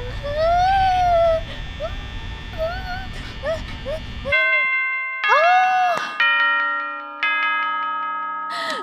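In the video game Five Nights at Freddy's, a warbling, whimpering cry gives way to a series of clear bell chimes at 6 AM, struck one after another with ringing tones that hang and decay.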